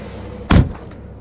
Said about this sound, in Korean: 문을 닫아볼까요?